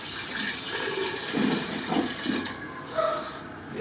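Yuca cooking water poured into a clay pot, a short splashing, gurgling pour close up over a few seconds, alone without talk.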